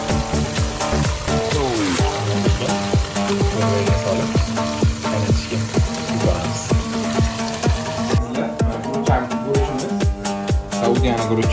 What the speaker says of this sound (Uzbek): Sabzimizni ham juda qilib qovurib olamiz.